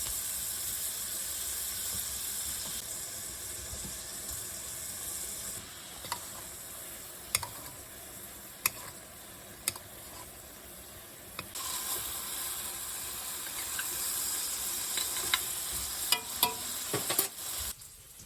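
Swordfish sears in a hot pan with a steady, close sizzle and hiss, broken by a few sharp ticks and clicks from utensils or the pan as it cooks.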